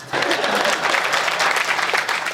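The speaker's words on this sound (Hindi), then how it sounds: "बजाओ ताली" A burst of audience applause at a Hindi comic poetry gathering, dense, steady clapping from many hands filling the whole stretch.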